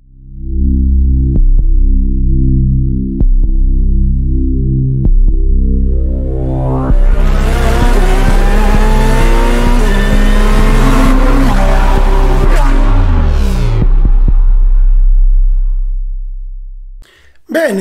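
A show intro jingle for a Formula 1 technical segment plays with race car sounds. Loud layered engine roars accelerate and rise in pitch over a musical bed, with sharp hits through it, before cutting out abruptly.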